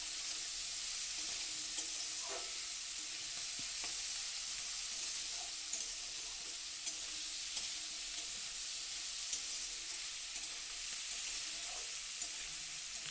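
Vegetables frying in a pan after salt is added make a soft, even sizzle with occasional faint stirring clicks, and no one speaks.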